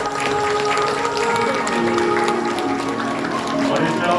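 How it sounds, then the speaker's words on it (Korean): Wedding guests in a banquet hall applaud as the bride enters, a dense, continuous clapping that holds loud and even throughout, layered with music. "여러분 큰 박수 부탁드리겠습니다"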